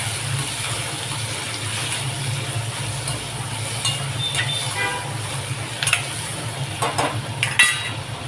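Paneer for dhaba-style matar paneer fries in oil until reddish, giving a steady close sizzle with a low hum beneath. Occasional utensil clinks and scrapes rise over it toward the end.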